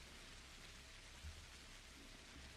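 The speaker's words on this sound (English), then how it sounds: "It has been raining for nearly goddamn 40 minutes." Steady rain in the video game Pathologic, a soft, even hiss of falling drops that continues unbroken and faint throughout.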